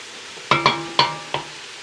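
A spoon stirs cabbage and noodles frying in a pan, giving four sharp scraping knocks against the pan over a low sizzle.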